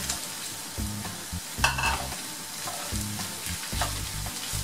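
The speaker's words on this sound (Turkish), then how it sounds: "Kavurmaya devam ediyorum." Onions for konak kebab sauté in a pan, giving a soft, steady sizzle under intermittent scraping and stirring strokes, heard up close with no one speaking.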